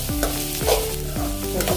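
Mixed vegetables for Veg Manchurian stir-fried in a hot pan, with a steady sizzle broken by three rhythmic scraping strokes of the spatula, close and clear, no voices.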